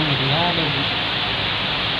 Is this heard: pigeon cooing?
no